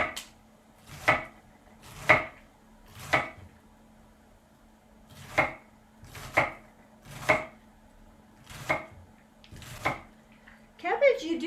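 Knife chopping onions on a cutting board, about ten sharp, evenly spaced thuds close by with a quiet pause midway, over a low steady kitchen hum.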